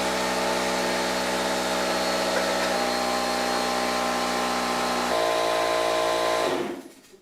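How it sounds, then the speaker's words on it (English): An air compressor in a garage workshop runs with a steady, loud motor drone and tonal hum that shifts pitch twice, then winds down and cuts off near the end. "Thanks, air compressor!"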